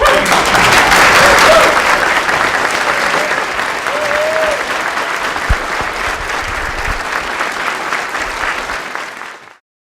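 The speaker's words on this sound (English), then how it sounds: "stand up and give these recipients a big round of applause" A standing audience at a National Medal of Science and Technology ceremony gives medal recipients loud, sustained applause with faint scattered voices underneath, slowly fading before cutting off.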